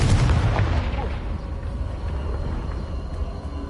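A Confringo explosion spell in Hogwarts Legacy bursts with a loud boom right at the start, then fades into a low rumbling tail.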